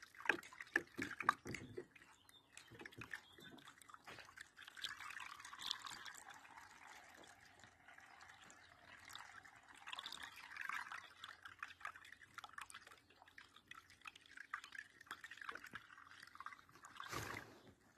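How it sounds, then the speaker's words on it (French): Coolant trickles and pours into the cooling system of an Opel Vectra B, a faint, steady liquid flow with small drips and splashes lasting throughout, recorded close and quiet. "Donc on remplit le liquide de refroidissement jusqu'à la barre où c'est marqué cold"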